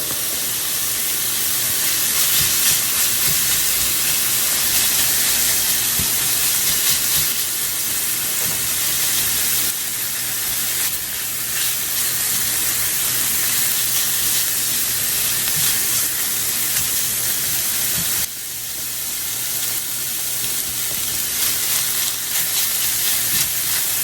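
Pre-cooked leftover rice fries in a hot pan, giving a steady, loud, close hiss and sizzle that runs without a break and with no talking.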